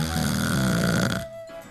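A voice imitates loud, drawn-out snoring in a single rasping breath with a spluttering close, heard alone and close up during a children's story read aloud.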